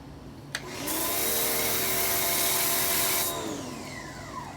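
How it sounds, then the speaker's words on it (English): A foam sprayer applies Gyeon Bathe Plus soap to a car, starting with a click and then a loud, steady rushing hiss over a motor drone for about two and a half seconds before dying away. "I'm just gonna foam this right here, let it sit, and then rinse it off"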